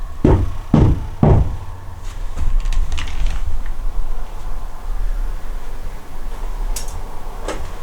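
Knocking inside an abandoned pub: three loud, evenly spaced knocks at the start, then fainter scattered taps and creaks over a steady background hiss.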